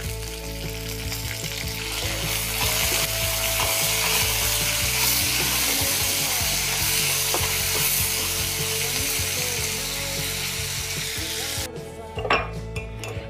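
Vegetables for veg kaju rice frying in ghee in a pan, a loud, steady sizzle close up with occasional stirring clinks, ending in a brief scrape and clatter of the pot.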